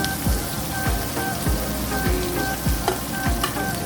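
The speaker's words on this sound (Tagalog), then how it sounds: "Add your chopped onion. Stir it for around 30 seconds until the aroma will come out." Chopped onion stir-frying in oil in a hot pan for a striped bass stir-fry, a steady close sizzle broken by regular scraping strokes of the spatula about every half second, with no talk.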